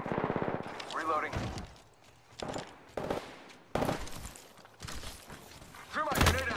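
Bursts of video game gunfire ring out in a squad shooter, several sharp shots spread across a few seconds with a louder cluster near the end, mixed with voices talking over the action.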